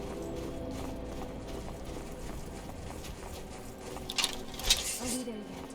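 A horse gallops in Skyrim with a quick, steady clip-clop of hooves running under busy game ambience and occasional brighter accents, moderately loud throughout.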